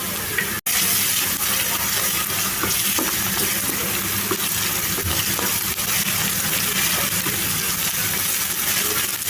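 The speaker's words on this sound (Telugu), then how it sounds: "ఒక 2 నిమిషాలు ఫ్రై చేసుకోవాలి" Onions frying in a pan with ginger garlic paste and turmeric, a steady close sizzle with stirring scrapes throughout and one brief dropout near the start.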